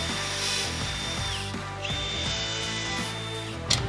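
A power drill drives GRK screws into composite deck boards, whirring in short bursts with pitch rising and falling as each screw bites and seats, close and loud without talk.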